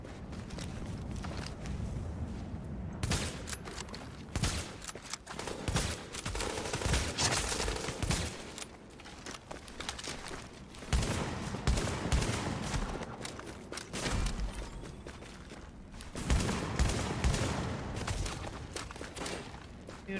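Gunfire in Tom Clancy's The Division: bursts of rapid shots and scattered single cracks from several weapons, moderately loud and irregular, with brief lulls between volleys throughout.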